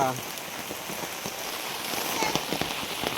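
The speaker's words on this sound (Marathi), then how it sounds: "मस्त असा पाऊस पडतोय" Monsoon rain in the Konkan countryside patters steadily on nearby surfaces, with soft scattered drops and faint background noise, fairly quiet and close.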